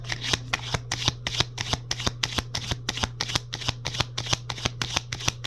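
Tarot cards shuffled steadily, a rapid run of crisp riffling slaps repeating about four times a second over a faint steady hum, close and clear with no talking.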